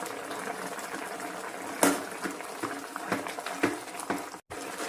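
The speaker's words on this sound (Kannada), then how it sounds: "ಮಾವಿನಕಾಯಿ ಬೇಯ್ತಾ ಇದೆ." Raw salted mango simmers in a gravy pot, with a soft, steady bubbling and popping close by, plus a few sharper clinks and bursts over the gentle boil.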